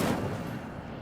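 The Incendio fire spell is cast in Hogwarts Legacy: a single loud burst of flame that flares instantly and fades over about a second.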